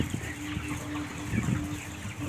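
Soft clucking and low murmuring of many broiler chickens inside a broiler house, a steady hum of birds with a faint mechanical drone underneath.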